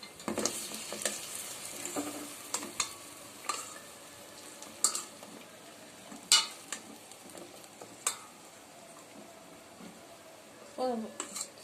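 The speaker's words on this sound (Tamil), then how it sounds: "பொரிச்சு விட்டுறணும்." Food frying in a pan while being stirred and turned, with soft scraping strokes and light sizzle coming in scattered bursts; a voice talks at times underneath.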